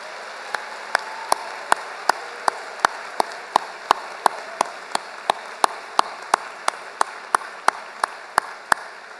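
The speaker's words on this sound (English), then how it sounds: "how about a big round of applause for the incredible volunteers on our move-in crew?" Steady rhythmic clapping at a college convocation, sharp evenly spaced claps over a wash of crowd noise, continuing throughout at a moderate level.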